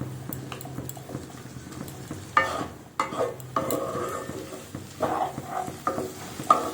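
A cluster bean (gawar phali) and potato vegetable curry is stirred in a sizzling pan. A spoon scrapes and clatters against the metal in irregular bursts over a low, steady frying hiss.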